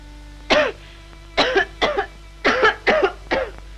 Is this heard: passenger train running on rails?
no